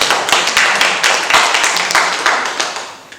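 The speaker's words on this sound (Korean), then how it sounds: "이럴 때 그냥 박수도 한번 쳐주시면" An audience at a talk by a cattle farmer claps in uneven bursts, several distinct surges of hand clapping that swell and fade over a few seconds before trailing off.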